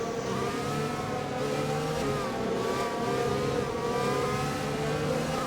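Formula 1 race car engines in the F1 2020 video game at the French Grand Prix, a steady high whining drone of several engines running continuously without a break.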